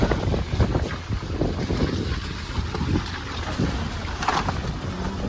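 Fast river water rushing down from the mountains, a steady, loud broadband roar with wind buffeting the microphone throughout.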